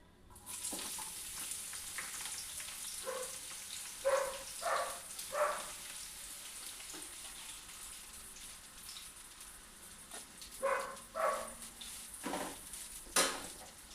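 Onions sizzle and fry steadily in a pan over a high flame, with occasional louder bursts of stirring and scraping against the pan.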